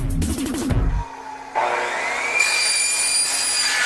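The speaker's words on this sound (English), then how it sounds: "An operator saws the tubes to lengths ranging from 22 to 26 inches, depending on the final bat model" Hollow aluminum alloy tubes for baseball bats sawn to length, starting with a loud rough grinding burst, then a sudden drop, followed by a whining saw tone that rises into a sustained high-pitched metallic screech.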